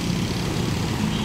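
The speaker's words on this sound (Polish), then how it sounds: "To jakieś wojskowe śmigłowce." Military helicopters pass overhead above a city street in Jakarta, a continuous broad, rumbling roar of rotors and engines, loud and steady for the brief moment with no talking.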